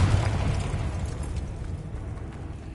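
A Confringo spell explodes in the video game Hogwarts Legacy, a loud booming burst that rumbles and slowly fades over a few seconds.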